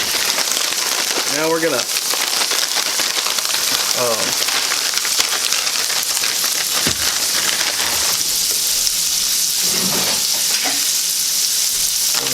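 Garlic hits a hot pan for shrimp scampi with broccoli and egg noodles, giving a steady, close frying sizzle that goes on throughout while a person talks over it.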